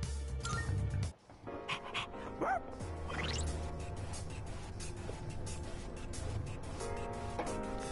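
A dog pants and yips in the Persona 3 Reload game, close and lively with short whimpers and barks over busy game music and effects, with no speech.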